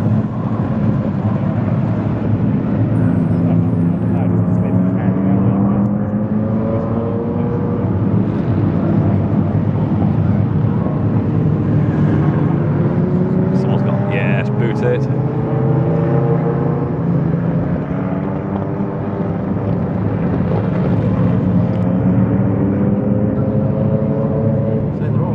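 Several Ferrari F40 cars driving at Silverstone, a continuous engine roar with rising and falling pitch sweeps as cars pass, steady and loud under voices.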